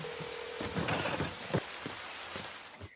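Steady heavy rain pours down over an apartment area at night, with low rumbles of thunder and sharper cracks rising briefly above the constant hiss, all without voices.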